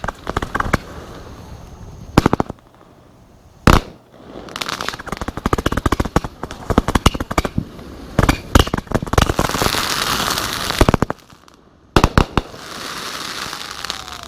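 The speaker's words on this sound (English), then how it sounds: "Later that night, we decided to let off the bigger fireworks." Fireworks burst at night during a Fourth of July celebration, with sharp crackling volleys and loud pops coming in clusters separated by brief quiet gaps, close by and dense.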